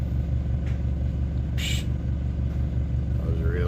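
Small gasoline engine idling at low throttle while driving a generator, a close steady low drone with an even pulsing beat throughout, and a brief hiss partway through.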